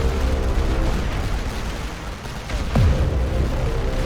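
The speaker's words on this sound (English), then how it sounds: "That is heavy artillery." Heavy artillery fire in a Great War Western Front video game: deep, rumbling booms with a sustained low roar, one heavier thump near the end, with no talk over it.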